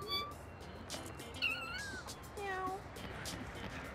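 Several cats meowing in the No More Heroes video game, repeated short rising and falling meows at moderate distance, with a voice talking in between.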